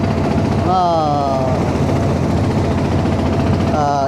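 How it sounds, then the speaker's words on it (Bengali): A passenger trawler boat engine running on a trip to Char Kukri Mukri in Bhola, Bangladesh, a loud, continuous, close mechanical drone with a voice speaking over it. "এই যে আমাদের ট্রলার অলরেডি সেরে দিছে"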